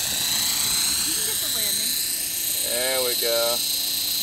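A Belt CP radio-controlled helicopter sets down in gusty wind at a park, its steady high rotor and motor whine running throughout, close and loud, while people talk over it.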